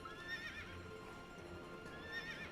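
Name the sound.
horse neighing in video game Fantasy Life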